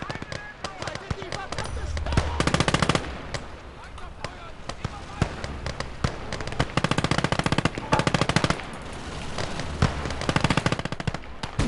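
Rapid bursts of 20 mm autocannon fire in the World War II strategy game Call to Arms: Gates of Hell on the Eastern Front, repeated loud staccato volleys over a dense battle din of other gunfire, with voices talking over it.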